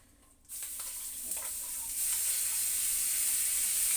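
Spices dropped into hot oil with a torn bay leaf on a gas stove, bursting into a steady, close sizzle that jumps up suddenly and keeps hissing loud and even with no talk over it.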